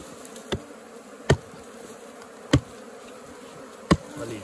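Apis honeybees swarm around a hive inside a termite mound in the middle of a pasture, a low continuous buzz broken by four sharp, loud knocks spaced about a second apart.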